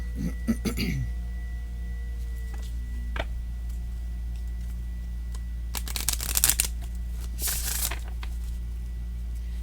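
Brief bursts of a small oracle card deck being riffled and shuffled close by, a quick flurry at the start and two more later, with a steady low hum underneath.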